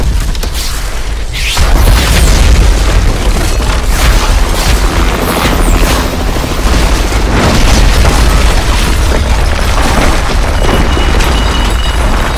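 Rocket explosions in the Call of Duty: Modern Warfare 3 campaign: after a brief lull, a loud sustained barrage of booming blasts and crackling bursts rolls on continuously, with no talk.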